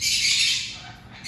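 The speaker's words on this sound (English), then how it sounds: "these birds are so loud." Birds squawk loudly and continuously, a harsh bright chorus close by that eases off slightly toward the end, with no talking.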